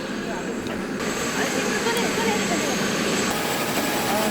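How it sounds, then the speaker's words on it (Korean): A rescue helicopter lifts off from Kathmandu airport, its engine and rotor making a steady, loud whirring roar that continues under a narrator's voice. "구조용 헬기를 빌려 타고 카트만두 공항을 떠날 수 있었다."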